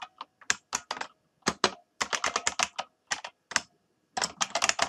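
Crisp, close clicking of keys on a computer keyboard, typed in quick bursts separated by brief pauses, with no voices.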